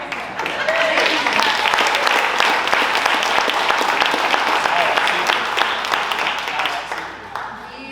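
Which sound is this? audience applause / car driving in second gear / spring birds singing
audience applause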